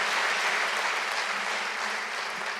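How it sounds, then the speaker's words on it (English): Audience applause at an indoor church panel event on mental health in New York City, a steady wash of clapping from many hands, fairly distant and even, fading slightly toward the end. "give yourselves a round of applause for showing up and being here"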